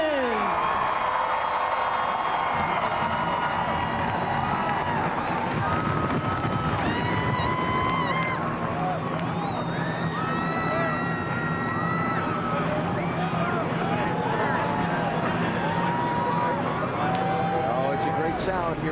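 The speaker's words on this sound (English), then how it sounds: "Sound here in those racing engines running again." A crowd roars and cheers while several racing car engines start and rev together at the 2004 Budweiser Shootout, their pitch climbing and falling, with a loud, steady rumble throughout.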